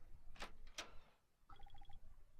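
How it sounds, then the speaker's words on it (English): A door opens in the video game Trick & Treat, two quiet sliding swooshes followed by a short run of faint rhythmic mechanical clicks. "Ah, the door's open."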